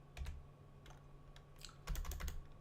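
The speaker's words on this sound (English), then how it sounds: "I really cannot type today." Typing on a computer keyboard while writing basic HTML markup, heard as two short bursts of clustered keystrokes with pauses between, fairly close and quiet over a steady low hum.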